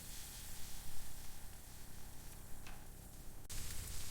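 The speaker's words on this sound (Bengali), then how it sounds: "এবার হালকা তেলে গ্রিল করব।" Steamed momos coated in tandoori masala grill in a little oil, producing a dense, even sizzle that swells briefly near the end.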